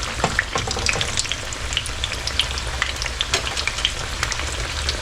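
Tilapia sizzles and crackles steadily in hot oil, with frequent sharp pops and spits over a constant frying hiss.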